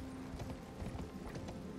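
A horse's hooves clip-clop in a quick steady rhythm as it is ridden in Elden Ring, a soft, continuous galloping patter.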